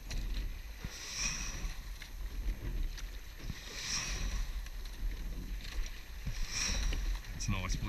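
A rowing crew's eight-man boat pulls through warm-up strokes at sea, oars catching in a steady, repeating rhythm about every two and a half seconds over wind and water hiss, with voices faintly in between.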